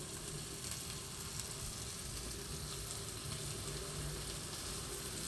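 Holy basil leaves frying in hot oil for a squid stir-fry give a continuous, fairly soft crackling sizzle that stays even throughout, with no voices.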